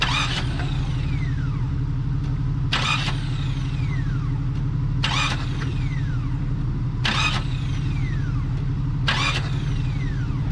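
A Jeep Cherokee lying upside down, its engine cranked over by the starter in five short, evenly spaced bursts over a steady loud engine-like drone.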